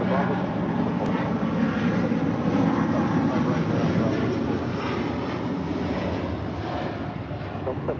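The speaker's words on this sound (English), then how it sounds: "This is Delta Airlines Flight 7 Heavy departing to Tokyo Haneda on the A330 Neo" A Delta Airbus A330neo jet departs LAX for Tokyo Haneda, its engines producing a steady, loud, broad roar that slowly fades near the end, with a voice talking over it.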